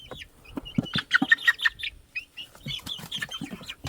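Chickens in a coop built from pallets, including a Silkie and a Barred Rock, giving close, soft clucks and short high chirps in irregular bursts with brief pauses.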